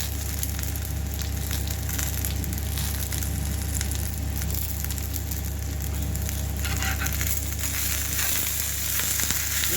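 Garlic, cumin seeds and fresh fenugreek leaves sizzle in hot oil in a pan, a steady, dense crackling hiss that holds at an even level for the whole stretch, close up with no talking.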